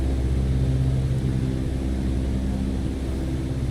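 Constant aircraft engine hum from a plane in Microsoft Flight Simulator 2020, a loud, steady low drone without pauses or voices.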